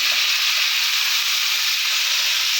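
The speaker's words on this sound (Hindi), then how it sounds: "अब हम इसमें मैरिनेट हुआ चिकन डालेंगे।" Marinated chicken for spicy shawarma hits hot oil in a pan, producing a loud, even, continuous hiss of frying with no break or talk.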